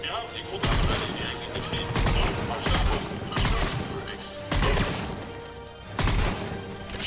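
Heavy gunfire from a battle in the video game Mass Effect 3: loud, dense volleys of shots and impacts arrive in repeated bursts roughly every second or two, with a constant roar of combat between them.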